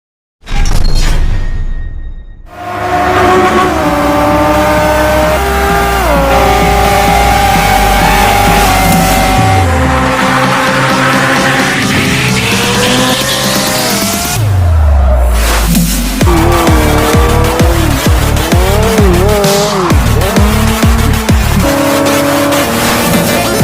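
Race cars in a mobile drag racing driving game roar loudly throughout, engines revving up and shifting with rising pitch sweeps, tire squeals and whooshing passes, with no talk.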